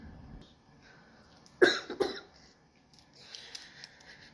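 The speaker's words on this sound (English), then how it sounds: "I'm coughing." Two sharp coughs in quick succession, close and loud, with quiet breathing and faint rustling around them.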